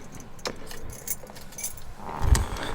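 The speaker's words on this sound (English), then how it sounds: "Just like these beautiful gold keys we had cut." Gold keys for a 1990 Cadillac Brougham d'Elegance jangle and clink up close in several short bursts, the loudest near the end, with no talking.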